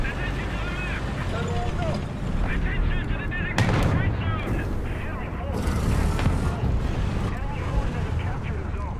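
Artillery fire in the tank game War Thunder, with several heavy booming blasts at irregular intervals, a big one near the middle, over constant engine rumble and battle noise, with someone talking throughout.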